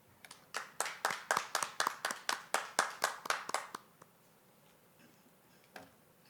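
Rhythmic clapping at a graduation ceremony, about a dozen evenly spaced, crisp claps in steady time that stop abruptly, followed by quiet room tone and a faint stray sound.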